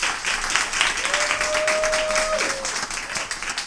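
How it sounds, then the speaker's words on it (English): Steady applause from an audience at a live poetry and performance event, a dense wash of clapping that holds for several seconds, with a faint tone running through the middle. "Everybody give her a round of applause."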